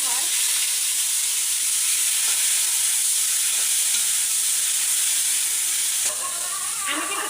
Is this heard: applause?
no